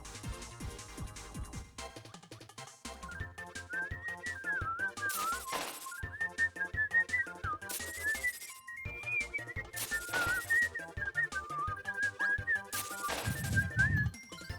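A fast whistled melody from the video game Kirby 64 skips through quick, bright notes over busy game music with percussive bursts, continuous and fairly loud, with no talk.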